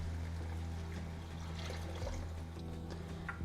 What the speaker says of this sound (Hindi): अब हम ऐड कर देंगे 4 कप पानी।